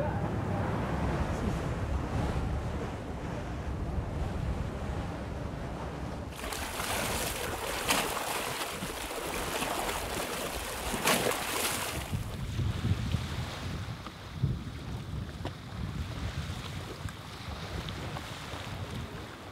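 Wind and surf at San Leko beach roar steadily throughout, a broad constant rush with gusty swells and breaking waves, close and fairly loud, with no voices.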